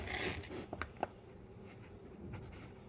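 Pen strokes scratch on paper in a few quick, close ticks and scrapes, faint over a steady background hiss, with no voices.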